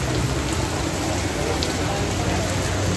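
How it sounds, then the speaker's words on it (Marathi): Heavy rain pours steadily on a city street, a dense, loud, unbroken hiss filling the whole stretch, with faint voices barely audible beneath it. "खूप पाऊस चालला आहे, ते मी आता फिलहाल पावसामध्ये भिजून ब्लॉग बनवतो आहे"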